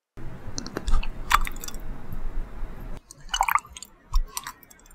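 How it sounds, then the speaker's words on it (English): Plunger of an Eclipse dispenser pressed twice, each press giving a short wet squishing, dripping burst with faint clicks, close and fairly quiet, separated by a brief pause. "Which is the real sound when you press the plunger of eclipse?"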